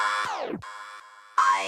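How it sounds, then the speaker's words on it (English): A synth in FL Studio run through a Looperator effect preset, heard alone as chopped, stuttering tonal bursts with a steep downward pitch sweep, a gap, then sustained looped segments that cut in and out. "It sounded kind of boring, so I added a looperator preset, which sounds like this."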